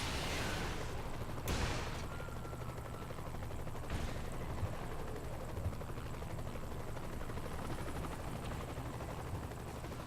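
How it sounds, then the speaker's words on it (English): Helicopters flying in during a Saints Row: The Third firefight on PC, a steady dense rotor-like roar filling the whole clip, with a sharp gunshot crack near the start and further scattered bursts of gunfire under the din. "I'm seeing helicopters fly in"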